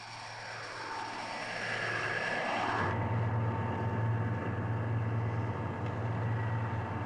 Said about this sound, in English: After 6 long months, the first plane arrives, bringing with it a new group of people to experience Antarctica's special qualities.